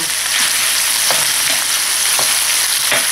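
Chicken pieces sauté in hot oil for tinolang manok, giving a constant loud sizzle with periodic scraping stirs of the pan, no voices.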